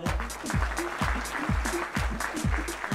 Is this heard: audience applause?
yes